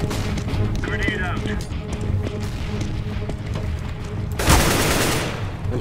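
Rapid gunfire bursts in a tactical shooter video game, with an M249 machine gun in play, crackle steadily under voice chat, followed by a louder burst near the end.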